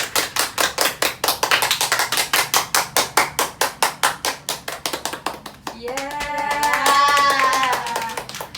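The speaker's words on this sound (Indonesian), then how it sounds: "Ibu minta kalian untuk tepuk tangan untuk membangkitkan kembali semangat kita" Steady rhythmic hand claps from a classroom of children, about five per second, then the claps stop and the children's voices rise in a drawn-out cheer.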